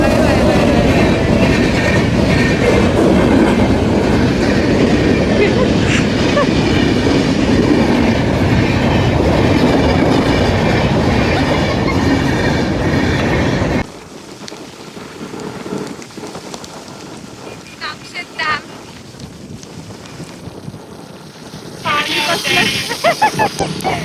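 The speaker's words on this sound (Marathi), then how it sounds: "हा, ट्रेन आली बघ." A train rushes past on railway tracks near Kamshet on a rainy monsoon day, a loud, dense roar with rhythmic clatter that suddenly cuts off, leaving quieter rain, wind and voices.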